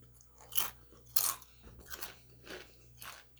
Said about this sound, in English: I really like the crunch on these.